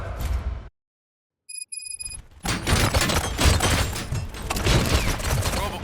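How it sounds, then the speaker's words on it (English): Video game gunfire in Robocop Rogue City: a burst of rapid shots, a brief silence with a ringing electronic tone, then a dense, loud barrage of overlapping gunshots and impacts continuing to the end. "Gunshots? What's going on?"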